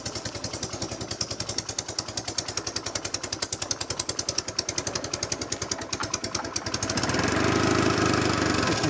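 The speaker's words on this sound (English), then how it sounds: "Well, that's warmed up, the tick over will increase slightly." A warmed-up classic motorcycle engine idles close by in a workshop, a rapid even tick-over beat that settles into a steadier, slightly fuller drone toward the end, with no talking.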